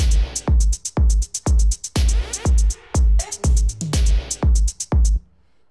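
A punchy electronic loop of repeated drum hits and short sampled stabs, played on Ableton Live 10 and Push 2, plays in a steady, driving rhythm, loud and close.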